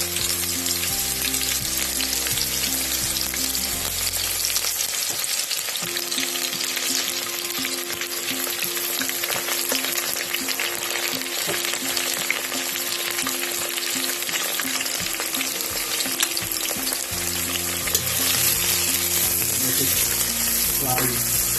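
Onions sizzle steadily in hot oil in a pan for chicken curry, following dry red chilies and leaves tempering; continuous loud frying crackle with a low hum underneath and no talk.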